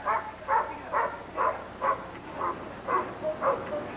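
A trained dog named Bo barks in a steady, evenly spaced series of about nine sharp barks, moderately close and alone without talk.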